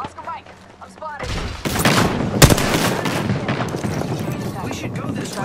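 Gunfire in the video game Apex Legends, with dense rapid bursts and sharp cracks of shots layered over game effects, loud and sustained after a brief quieter opening, with game voice lines running underneath.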